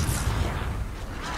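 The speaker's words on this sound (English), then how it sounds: "I grenaded him." A grenade explosion in Call of Duty Warzone, heard as a brief muffled low boom and rumble in a game round, fairly quiet and lasting just over a second.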